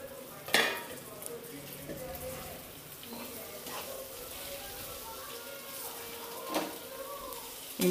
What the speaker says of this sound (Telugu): మనం ముందుగా ఉడకబెట్టి పెట్టుకున్న బంగాళాదుంప ముక్కలు కూడా వేసుకుందాం.